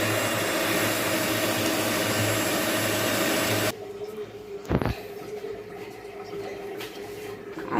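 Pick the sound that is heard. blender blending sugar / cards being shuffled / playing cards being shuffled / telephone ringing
blender blending sugar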